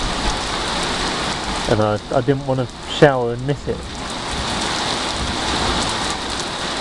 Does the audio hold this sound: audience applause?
no